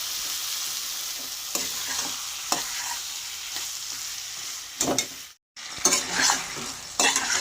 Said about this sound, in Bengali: মশলাটার সঙ্গে ভালো করে নাড়িয়ে আমি জল ছাড়াই কষিয়ে কষিয়ে এটাকে